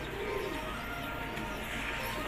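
A local pigeon gives a soft, low coo near the start, then steady background noise fills the rest with no further clear calls.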